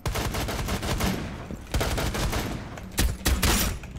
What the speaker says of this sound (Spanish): Yo por si acaso digo, disparo un poquito hacia adelante, no veo nada.